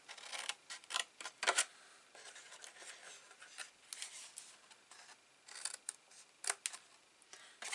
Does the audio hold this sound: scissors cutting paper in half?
yes